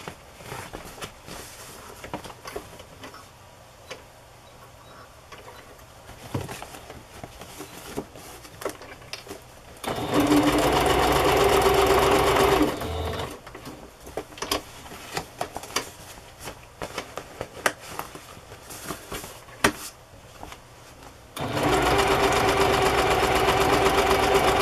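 A sewing machine stitching fabric pieces onto a journal cover runs in two steady, fairly loud bursts of several seconds each, a whirring mechanical drone separated by quieter handling noise, with no talking.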